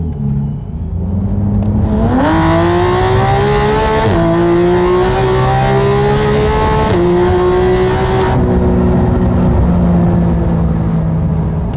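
A supercharged Porsche 911 GT3 custom build with active exhaust revs loudly, its engine note climbing in stepped pulls and holding high, close and alone with no voices.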